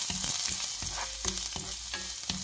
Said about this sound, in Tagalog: Ilagay na natin yung ating garlic.